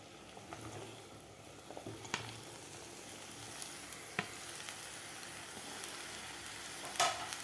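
Sautéed vegetables fry in masala for restaurant-style veg Kolhapuri, giving a faint, even sizzle with scattered small clicks and taps from stirring.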